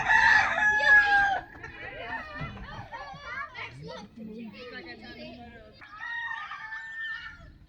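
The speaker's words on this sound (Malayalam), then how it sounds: "ഈ സെക്ഷൻ നോക്കിക്കഴിഞ്ഞാൽ നമുക്ക് കുറച്ച് കോഴികളെ കാണാം." Chickens cluck and a rooster crows at a farm in Ambury Regional Park, Auckland, starting with a loud call and then continuing as scattered clucks and chatter, while children talk and play nearby.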